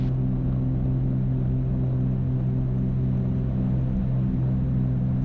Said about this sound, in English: Full power, making full power.